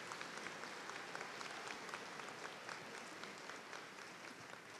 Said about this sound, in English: Please join me and give these individuals a round of applause for their dedication and work.